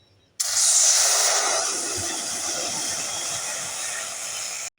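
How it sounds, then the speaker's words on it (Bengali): Water splashed into a hot wok sets off a loud, steady hiss of steam, strongest at first, then holding level for several seconds before cutting off abruptly, with no voices. "কড়াই গরম হয়ে গেছে, এবারে দিয়ে দেবো জল।"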